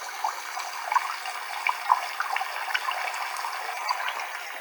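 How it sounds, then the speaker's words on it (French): Water running from a tap in a steady, close hiss with small bubbling splashes and irregular drips throughout, no voices. "C'était le bruit du robinet, de l'eau qui est en train de couler."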